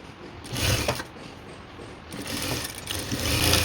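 A sewing machine stitches cut dress fabric, its close mechanical whir and rattle running in uneven bursts that swell and ease, with no talking.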